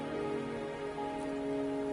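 Steady hiss of rain falling in the video game Wuthering Waves over a soft tonal background hum, constant and unbroken.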